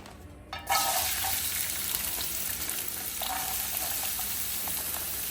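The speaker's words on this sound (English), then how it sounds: "Dump some onion in here." Chopped onion sizzling and frying in a hot pot as aromatics go in, with a sharp rise in steady, close crackling hiss after a brief quiet start and faint stirring clicks throughout.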